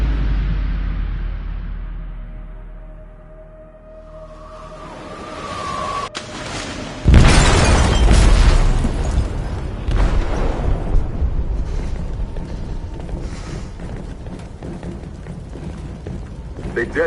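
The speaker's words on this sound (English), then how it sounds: "They detonated an explosive in the hold." A loud explosive blast goes off in a ship's hold in Detroit: Become Human, a sudden boom that breaks into a long roaring rumble after an earlier quieter stretch and faint tones.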